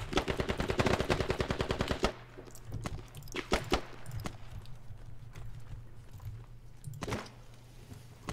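Automatic gunfire in the military shooter Squad, set on the Al Basrah map: a dense rapid burst of shots for two seconds, then scattered single and clustered shots trading at middle distance through the rest.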